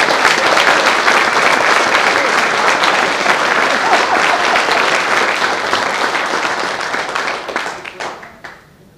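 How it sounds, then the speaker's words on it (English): Loud, dense applause from a large audience at a KCBS barbecue competition finals event, greeting the master judges, sustained for several seconds before tapering off at the end. "Let's give them a round of applause."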